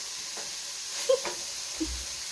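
Steak fajitas sizzling in a hot pan, a steady, fairly quiet hiss throughout with a couple of brief pops and spatters, close by, no talking.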